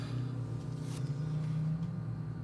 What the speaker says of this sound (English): It's just picking up the traffic.